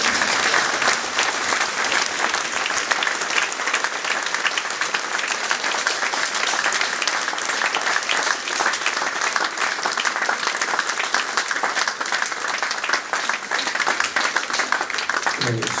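An indoor audience claps continuously for a long, steady stretch of dense applause at even loudness, with a few voices faintly mixed into the crowd noise.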